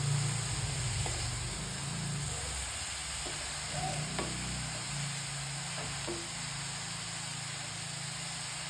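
Manathakkali greens sauté with masala in a pan, giving a faint, steady sizzle with occasional soft stirring scrapes throughout.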